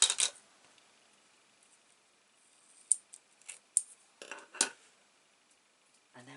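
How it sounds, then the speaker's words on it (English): Scissors make a few crisp, separate snips in a quiet room after a short rustle, each cut a sharp, brief click. "Let me just snip that bit off."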